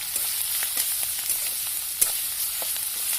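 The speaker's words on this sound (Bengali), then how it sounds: "আদা রসুনের কাঁচা গন্ধ যাওয়া পর্যন্ত ভেজে নিচ্ছি" Ginger and garlic paste fries together with onions in a pan, giving a continuous bright, hissing sizzle with soft intermittent stirring scrapes and no talking.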